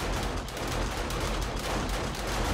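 Automated SMG turrets in the zombie survival game 7 Days to Die firing nonstop at zombies, a dense, loud, continuous rattle of rapid gunfire with no pauses.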